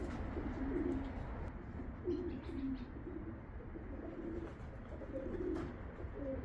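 A white racing pigeon coos at the loft, soft rhythmic coos repeating every second or so over a steady background rumble.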